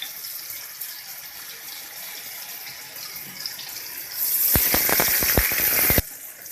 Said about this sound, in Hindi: थोड़ा इसके अंदर हम पानी भी डालेंगे।